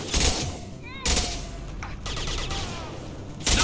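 Bursts of gunfire from a Mass Effect 2 firefight: a loud volley at the start, another about a second later and a third at the end, with voices talking in between.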